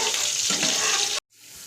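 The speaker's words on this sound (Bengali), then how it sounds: "এবার আদা আর লঙ্কার পেস্টটা আমি দিয়ে দিচ্ছি। ভালো মতন কষিয়ে নেব" Ginger and chili paste frying in a pan makes a steady, bright sizzle with a faint stirring scrape, then cuts off abruptly and gives way to a quieter hiss.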